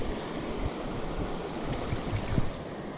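A flowing stream holding brook trout, a steady, soft broadband rush of water with small gurgling surges, continuous and fairly close, with no talking.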